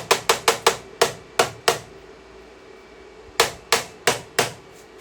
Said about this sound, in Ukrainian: Давайте ми її якось тут постукаємо.